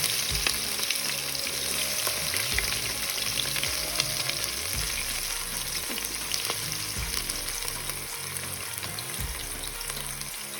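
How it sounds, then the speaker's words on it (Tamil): Chopped onions frying in hot oil for biryani, a dense, loud continuous sizzle with repeated scraping stirs of a spoon against the pan, close up and steady. "இப்போ நான் என்ன பண்ணுறேன்னா கட் பண்ணி வச்ச வெங்காயத்தை இதில் சேர்க்குறேன்"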